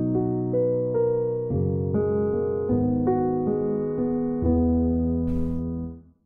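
Mellow piano chords play one after another in a slow, even rhythm, soft and warm, before the last chord fades out.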